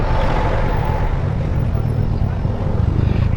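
Steady, close traffic drones along Roxas Boulevard in Manila, with the engines of passing tricycles blending into a continuous low rumble and no individual vehicle standing out.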